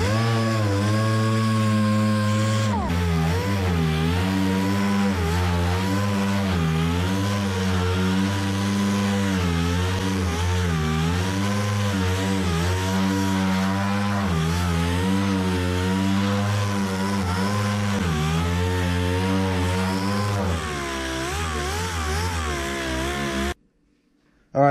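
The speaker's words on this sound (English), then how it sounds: "I'm gonna go over this with my 80 grit on my DA." A dual action sander with 80 grit paper works over a panel on a 1959 Dodge Coronet, a steady loud motor whine with wavering pitch as it is moved across the metal, then stopping abruptly near the end.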